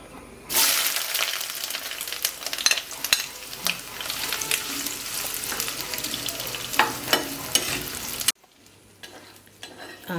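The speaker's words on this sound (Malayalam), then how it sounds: "ഇഞ്ചി വറുത്തെടുക്കാം. അത് 2 പ്രാവശ്യമായിട്ട് വറക്കാം." Ginger frying in coconut oil for a Kerala-style ginger curry, a loud crackling sizzle with stirring clinks and scrapes that cuts off abruptly near the end, leaving a quiet hum.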